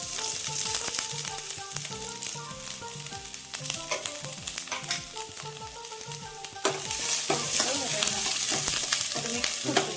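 Onions and garlic cloves sizzle in hot oil in a pan for homemade noodles, with steady frying crackle and repeated scraping, clattering stirring strokes, close and fairly loud throughout with no talk.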